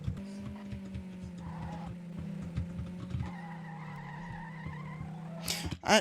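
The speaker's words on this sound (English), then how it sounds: "I'm going into a drift." A Trackmania car sliding through a drift, a steady engine drone with a long rising tire squeal over a rapid clicking rattle, moderately loud and close, ending with a brief sharp burst.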